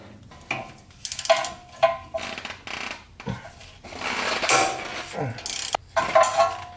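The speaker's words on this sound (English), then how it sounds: "let's go ahead and work on those 14 millimeter bolts" A ratchet loosening 14 millimeter bolts on a Toyota 4Runner during a manual hub swap gives close metallic clicking and pawl rattles in short uneven bursts, with scraping clanks of parts between strokes.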